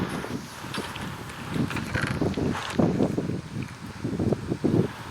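Wind gusting outdoors in a Minecraft-style build session, a steady blustery roar with rushing swells and buffeting against the microphone, loud and close throughout.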